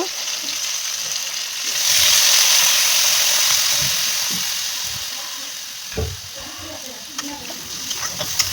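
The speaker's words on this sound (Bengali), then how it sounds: "এখন এখানে সেদ্ধ করার জন্য আমি একটু জল অ্যাড করে দেব" Water poured into a hot pan of fried drumstick and potato sets off a loud, bright surge of sizzling steam that slowly settles into a softer frying hiss with occasional stirring knocks.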